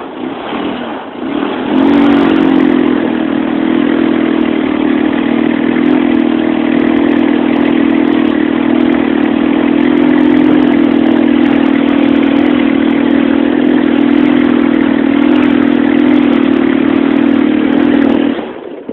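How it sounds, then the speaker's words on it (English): A four-wheeler ATV engine runs steadily and loud for most of the stretch in the woods, a strong constant drone with a slight rise in revs, starting after a brief quiet moment at the beginning. "get the four-wheeler going"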